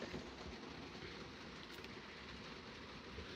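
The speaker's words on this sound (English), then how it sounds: "it's pouring rain." Dense, steady hiss of heavy rain pouring down without a break, a constant broadband wash with no voices.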